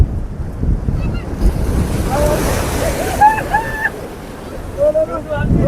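Strong sea waves wash and surge around the Haji Ali dargah in Mumbai, a steady roar with wind buffeting the microphone, while voices and brief tonal calls sound over it.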